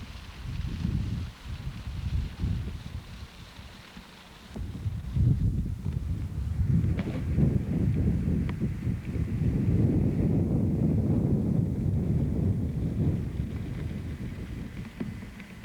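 Steady, heavy wind roars and buffets the microphone in a field beside a fire in the trees, with low rumbling gusts that swell louder midway and stay strong to the end.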